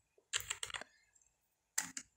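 Keys on a computer keyboard tapped in a short quick burst to enter a layer name in AutoCAD, then a brief pause before another cluster of two or three keystrokes; close and fairly quiet, with no talking.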